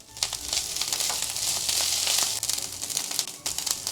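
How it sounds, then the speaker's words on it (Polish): Steady loud sizzling of filling frying in a pan, with scraping and clattering as it is stirred now and then. "Jeszcze smażymy 2-3 minutki, często mieszając."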